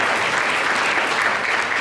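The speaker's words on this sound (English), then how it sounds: "let's give all of our Miss candidates a round of applause" Sustained, loud applause from a pageant audience fills the whole stretch as one even wash of clapping, with no talk on top.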